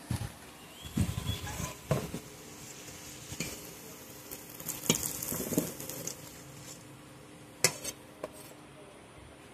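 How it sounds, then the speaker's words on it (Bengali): Potatoes frying red-brown in hot oil, with a soft continuous sizzle under intermittent spatula scrapes and sharp metallic clinks against the pan, close and moderately loud. "আলুগুলো লাল লাল করে ভাজা হয়ে গেছে, এবার এগুলো তুলে নেব।"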